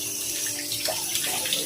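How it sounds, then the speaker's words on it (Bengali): Running tap water streams steadily over a mango being washed in a sink, a close, continuous splashing rush with slight shifts as the fruit turns under the flow. "প্রথমে আমটাকে আমরা ধুয়ে নেব।"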